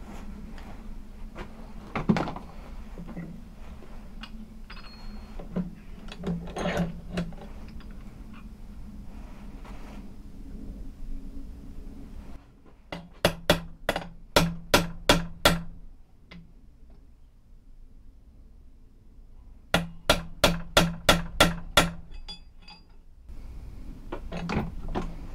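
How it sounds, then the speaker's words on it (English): A hole punch is driven through stacked leather for a knife handle, giving two clusters of sharp, rapid knocking strikes amid quieter handling clatter. "You just have to do it brute force basically and punch the holes out."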